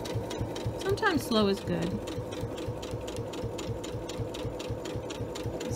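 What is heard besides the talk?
sewing machine stitching binding on a mug rug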